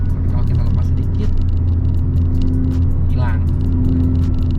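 Steady low rumble of an automatic-transmission project car engine idling close by, a constant deep drone held for the whole stretch with faint bursts of speech over it.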